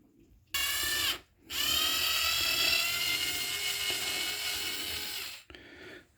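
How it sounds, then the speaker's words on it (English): A power screwdriver driving screws into a Samsung dishwasher, two whirring runs, a short one and then a longer steady one, close and fairly loud with brief gaps of quiet. "she's good at running a screwdriver"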